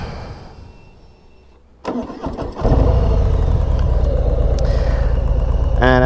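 A stock Harley-Davidson FXDR 114 motorcycle cranks over and fires up, then settles into a loud, steady, deep idle close by, with no talking.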